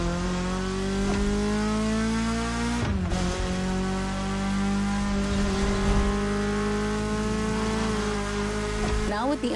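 A BMW M3's engine in The Crew Motorfest, a loud steady mechanical drone that shifts pitch with gear changes and revs, with someone talking over it throughout.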